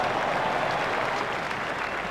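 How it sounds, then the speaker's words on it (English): Cricket crowd at a one-day international between India and Australia applauding a front-foot shot, a dense, steady roar of clapping filling the stadium throughout without pause. "The crowd were brought to their feet by that shot."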